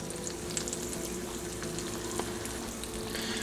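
Eggs cooking on low heat in a cast iron skillet give a soft, steady frying hiss with faint crackles that hold at an even level throughout, with no voices.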